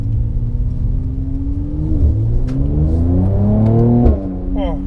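A Mercedes-AMG C43's engine revs up through rising pitch sweeps, then drops into overrun with crackles near the end, loud and close from inside the car.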